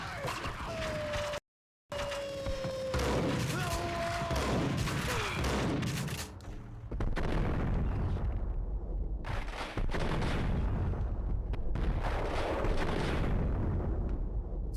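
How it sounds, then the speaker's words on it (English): Grenade explosions and gunfire in the Max Payne video game, with repeated heavy booms and shots, gliding whistle-like tones and game music running throughout, plus a brief dropout of silence early on. "Throwing grenades and shit at me."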